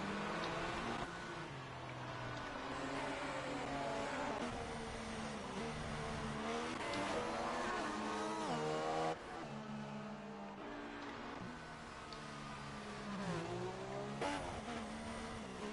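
Race cars circle a track in a racing video game, engines whining and revving through gear shifts, with cars passing near and fading, loud and continuous throughout.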